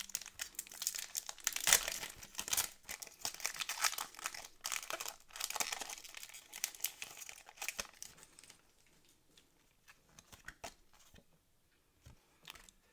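A Pokémon Mega Evolution card pack wrapper being torn open, with loud, close crinkling and crackling of foil plastic in repeated handfuls that thins out into sparse soft rustles toward the end.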